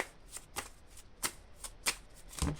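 Oracle cards being shuffled by hand, heard as a quick series of sharp papery riffles and slaps, close and fairly quiet, about six bursts in under three seconds, with no talking.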